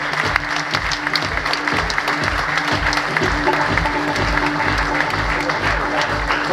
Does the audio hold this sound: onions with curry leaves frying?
no